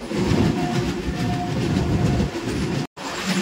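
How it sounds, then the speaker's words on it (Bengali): The Kanchan Kanya Express rolls into Kishanganj railway station with a loud, continuous rumble of wheels and carriages heard from on board, cut by a brief dropout near the end. "আমাদের ট্রেন এখন ঢুকছে কিষানগঞ্জ রেলওয়ে স্টেশন।"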